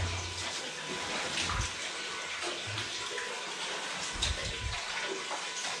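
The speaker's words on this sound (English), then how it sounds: "And that's the water." Water trickles and splashes steadily inside an old gold mine with quartz veins, a continuous wet rushing with small bursts of louder splashing, fairly close and alone without talk.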